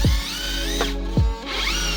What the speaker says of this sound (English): Using my cordless 18-volt Makita and stainless steel SV bolts, the work went really smoothly